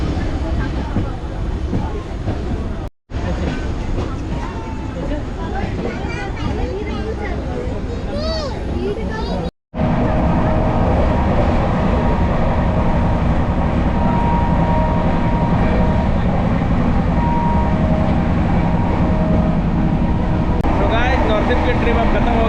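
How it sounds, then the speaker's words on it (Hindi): Passenger train running from Howrah to Tata in India, a steady loud rolling rumble and rattle of the carriages filling the whole stretch, with brief dropouts and faint voices and cabin sounds mixed in. "राइट टाइम पे ट्रेन चल पड़ी है।"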